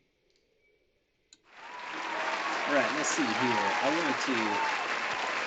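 Applause sound effect played by a host during a live coding show, a loud, dense wash of clapping and cheering that starts abruptly after a brief quiet moment of speech and continues steadily to the end.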